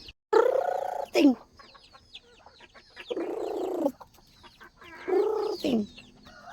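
Chickens cluck close by in short repeated bursts, broken up by brief quiet gaps and a little faint background sound.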